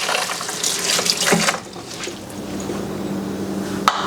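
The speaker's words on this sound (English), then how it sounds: "As soon as I rinse off my funnel." A funnel is rinsed under a running kitchen tap while pepper canning is underway. Water gushes strongly at first and then keeps flowing more softly, ending with a small knock.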